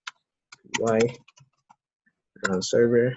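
Sharp keyboard taps at the start and in a quick burst of keystrokes as a Python Django command is entered, mixed with someone speaking briefly in between.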